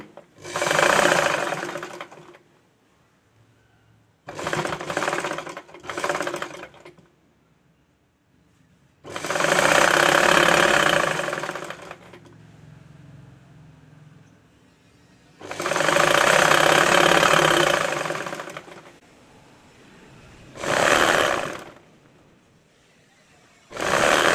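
A sewing machine stitches the shortened hem of a dress in several runs of steady whirring, each lasting a few seconds, separated by quiet pauses for adjusting the fabric around a curve.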